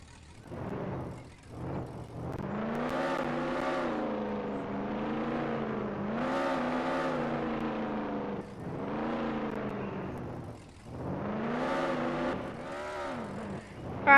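Car engine in the Roblox game Jailbreak, revving up and down in repeated rising and falling sweeps as it drives and shifts gears, loud and steady for about fourteen seconds with no voices.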